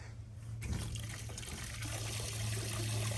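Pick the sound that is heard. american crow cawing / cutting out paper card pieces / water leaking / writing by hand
water leaking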